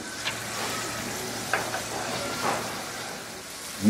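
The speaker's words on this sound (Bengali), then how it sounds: "ভালো মতো এখন ভুনে নিব।" Mixed vegetables and spices sizzle and fry steadily in a pan up close, with occasional scrapes of a spoon stirring through the constant hiss.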